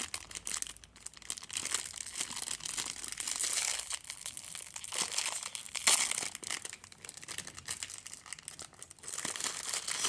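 Stiff plastic packaging around a K-pop Demon Hunters doll crinkles and tears as it is opened by hand, a close, continuous rustling and crackling with a few sharper rips, and no talk.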